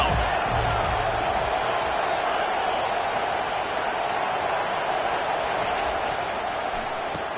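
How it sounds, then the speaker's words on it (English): A packed college football stadium roars on third down, a dense, sustained wall of crowd noise from thousands of fans that stays loud and even throughout. "Decibels rising as the crowd gets behind this defense on 3rd down."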